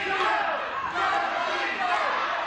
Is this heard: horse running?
no